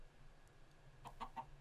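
A Minecraft chicken gives a couple of quick, faint clucks over a low background hum, short soft bursts near the end with no one talking.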